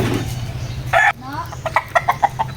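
Chickens cluck in a series of short, bright calls close by, one sharper squawk standing out, over a steady low hum, with voices talking in a Filipino household as the birds are being given water.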